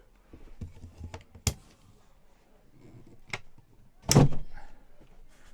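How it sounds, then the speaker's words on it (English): Storage locker door in a motorhome slamming shut, a sharp loud bang after a few lighter clicks and taps, close by in a quiet interior. "there's a slamming locker, which can scare the life out of you when it does that"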